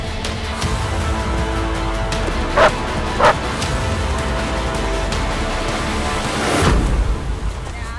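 A protection dog barks during sport training, with a couple of sharp barks in the middle and another a few seconds later over a low rumbling background, fairly close and loud.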